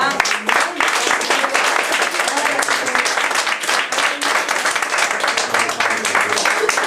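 A church congregation applauds steadily and loudly throughout, a continuous wash of clapping from many people at close range.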